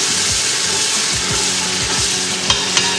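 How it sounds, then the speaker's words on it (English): Onions simmering in a pot of collard greens, with a steady close sizzle and bubbling under a spoon scraping and stirring in a repeated rhythm, a few soft clinks near the end. "you can see these onions, they're simmering away."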